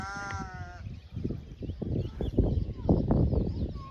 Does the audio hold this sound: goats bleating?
yes